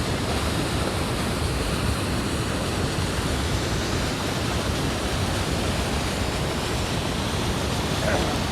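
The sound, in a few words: Niagara Falls waterfall, water rushing and splashing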